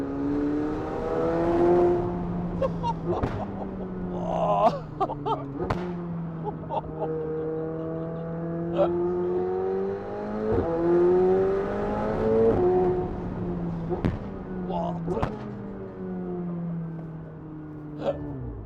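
A McLaren 720S Spider supercar engine revs hard several times. Loud rising and falling wails are broken by sharp cracks, with gasps and exclamations in between.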